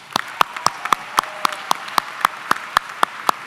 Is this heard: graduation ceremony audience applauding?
yes